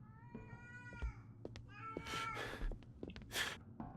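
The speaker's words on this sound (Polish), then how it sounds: "Nie, kot." Cat meowing in the horror video game Erie, several drawn-out close meows and a caterwaul-like cry, fairly clear with light breathing around them.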